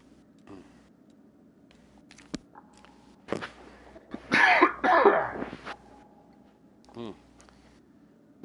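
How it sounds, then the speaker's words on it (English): A couple of close, rough coughs and throat-clearing bursts come in the middle of the clip, with faint ticks and soft movement around them. "Real sorry. About the coughing."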